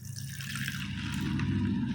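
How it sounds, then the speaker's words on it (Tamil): Water pours into a kitchen pump dispenser bottle in a soft, steady trickling stream, close by and fairly quiet, with no talking over it. "தேவையான அளவுக்கு தண்ணி வந்து ஊற்றி வச்சுக்கோங்க"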